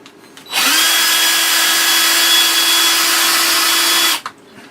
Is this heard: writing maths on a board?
no